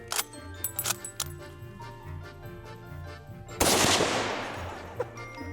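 A single loud rifle gunshot fired at a shooting range, aimed with an offset dot sight. The sharp crack is followed by a long, fading echo. Light metallic clicks and handling noises come before it.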